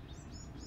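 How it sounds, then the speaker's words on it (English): Quiet outdoor birdsong: three short rising chirps in quick succession, faint and distant, with no talking. "do you guys hear those birds?"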